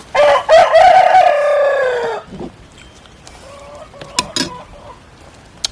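Domestic chickens at home give a loud, close rooster crow lasting about two seconds, followed by softer clucks and a few short calls further off.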